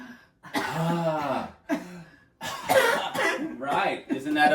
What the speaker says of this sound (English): Isn't that a better cough?